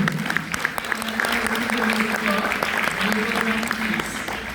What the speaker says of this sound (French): Applaudissez-vous.